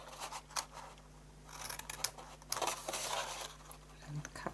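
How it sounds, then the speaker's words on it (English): Scissors cut small notches into scored cardstock for a mini cookie box, making quiet, close snips and paper rustles in short irregular bursts, with faint speech nearby. "in the normal way we cut up our score lines, and then we cut in a little notch on the edge"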